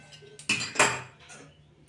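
Kohlrabi curry tipped into a metal bowl, giving two quick clattering metallic knocks and a short scraping rush, close by, then fading into quiet.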